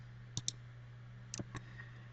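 A computer mouse gives a few sharp, close clicks, first as a quick pair and then a short cluster, over a steady low electrical hum, with no one speaking.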